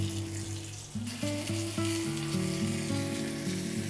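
Food browning in a cast iron skillet gives a steady, close sizzle with a constant frying hiss, while pitched music plays underneath throughout.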